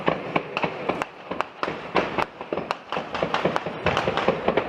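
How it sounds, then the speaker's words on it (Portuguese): Rapid gunfire during a gunfight between armed gangs in a Brazilian community, dense irregular bursts of sharp cracks and pops at moderate distance, sustained throughout with no talking. "Os tiros começaram logo pela manhã."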